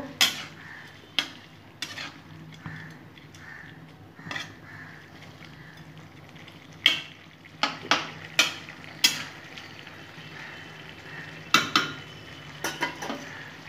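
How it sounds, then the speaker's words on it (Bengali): Bitter gourd and cucumber stirred in a pan, a spatula scraping and clinking against the metal in repeated sharp strokes over a low steady sizzle, with irregular bursts of louder scrapes. "নেড়ে নেব।"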